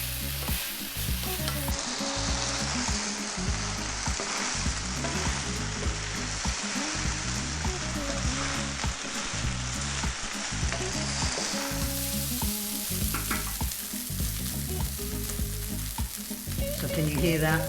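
Rice for a soy sauce chicken, ginger and cabbage fried rice fries hard in a hot pan, a loud, steady sizzle and crackle running the whole time with no talk.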